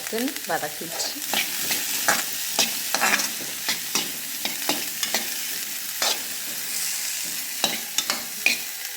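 Okra sautés in a pan with a steady sizzle, punctuated by regular spatula scrapes and stirring clacks, close and fairly loud, with no talking.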